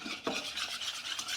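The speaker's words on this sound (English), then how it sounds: "Really get that egg white mixed into the water and corn flour mix." Egg white whisked by hand into a water and corn flour batter for crispy fried chicken wings, making a quick wet rhythmic swishing and soft scraping close up, with no voices.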